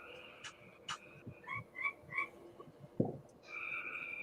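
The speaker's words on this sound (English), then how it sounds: "man, those frogs are getting loud." Frogs croak outdoors at night, a scattered series of loud, close croaks and chirps with no talk over them, ending in a sustained trilling call.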